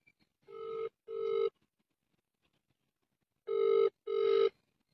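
Phone ringing in a domestic setting, two pairs of bright double trill bursts separated by a pause of silence, close and clear with no talk over it.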